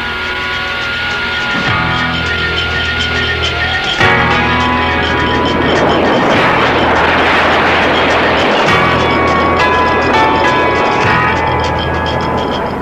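A US Navy military aircraft carrying a GAU-12/U 25mm rotary cannon during flight testing, a loud continuous engine roar with steady tonal drone throughout, swelling into a broader rushing noise midway.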